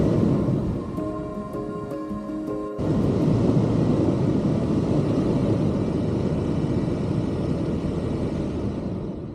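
A 4x4 vehicle churns uphill through deep snow on a 15-degree winter storm trip, its engine a steady, loud, broadband rumble. Tonal mechanical whine shows early, then a thicker surge of grinding noise holds to the end.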